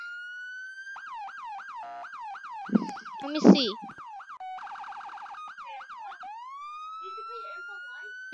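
A video game police siren wails, cycling rapidly through repeated up-and-down sweeps, loud and steady, shifting to a faster yelp, with a brief spoken remark and a couple of thumps midway.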